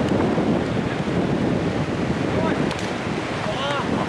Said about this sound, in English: the wind is really picked up